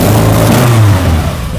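An old push-start sports car engine revs loudly nearby, its low droning pitch rising and holding steady before easing off slightly.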